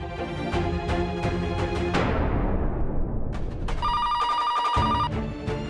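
A telephone rings while a call is placed to a bank helpline, its repeated electronic ring tones cutting in loudly over a dramatic musical score, with a sustained higher ringing burst near the end.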